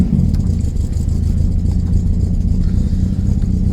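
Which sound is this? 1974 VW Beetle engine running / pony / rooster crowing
1974 VW Beetle engine running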